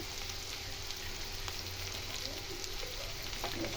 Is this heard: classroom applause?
no